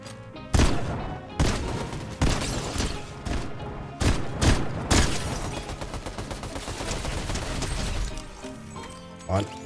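Rapid bursts of gunfire during a Fortnite solo match, loud repeated shots and crashes with dense game music and effects throughout, several sharp heavy hits standing out.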